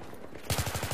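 Automatic-weapon fire in the Battlefield 3 multiplayer Conquest mode on the Gulf of Oman map, a sudden close, loud rapid burst of evenly spaced shots that starts halfway through after a quieter lead-in.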